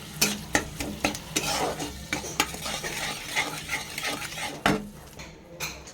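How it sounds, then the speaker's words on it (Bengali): Boiled tomatoes are stirred in a pan, a spatula scraping and tapping the metal in an irregular series of clicks and knocks over a faint sizzle, close and fairly quiet. "ডালের সাথে সিদ্ধ করা টমেটো 3টে নিয়ে নিয়েছি। এটা দিয়ে একটু ভালো করে আগে নেড়ে নেবো"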